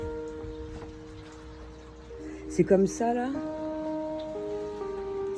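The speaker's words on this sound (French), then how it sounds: "Il pleut, je vais rentrer." Light rain patters steadily outdoors in a garden, a faint continuous hiss beneath a person speaking French.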